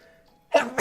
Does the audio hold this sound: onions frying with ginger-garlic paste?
no